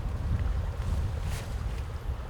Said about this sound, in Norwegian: Nei, har vinden snudd nå.